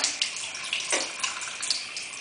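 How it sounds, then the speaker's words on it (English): A bathroom tap runs water over a makeup brush being rinsed, giving a steady close hiss and splash that shifts slightly as the brush moves under the stream. "So to clean this, I would just run it under the water"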